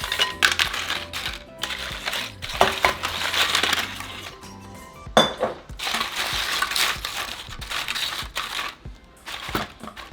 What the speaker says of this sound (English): I'm going to grab my baking sheet and I'm just going to add a layer of my chips